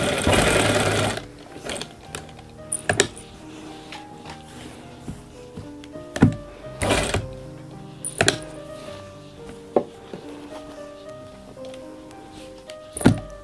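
Sewing machine stitching a pocket on a gent's kurta, heard as a brief loud run at the start followed by intermittent clicks and short mechanical knocks.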